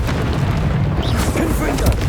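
Confringo fire-spell blasts in the video game Hogwarts Legacy, heard as loud, dense booming explosions with a rumbling tail, layered with game voice shouts.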